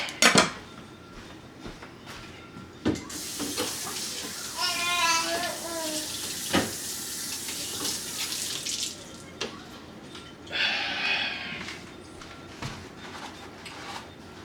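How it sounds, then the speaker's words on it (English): Tap water runs steadily over a cutting board being rinsed in a kitchen sink, with occasional clunks and knocks of the board, close up and moderately quiet. "As a matter of fact, I'm gonna rinse my board off."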